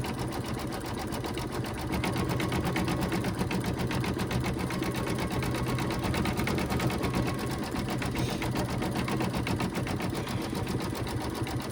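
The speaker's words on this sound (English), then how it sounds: "It just stitches around the inside, and I just keep the same thread color." A Sweet Pea embroidery machine stitches an Easter table runner design, a fast continuous mechanical whirring and clatter that runs steadily throughout with no pauses, close and fairly loud.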